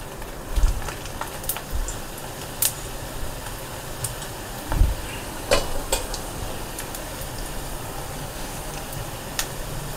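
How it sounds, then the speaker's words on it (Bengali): Moong dal pakoras fry in hot oil, a steady crackling sizzle with scattered sharp pops and occasional stirring clatter close by, and no one talking. "এপিট ওপিট করে একদম লাল লাল করে ভেজে নিয়ে আসছি।"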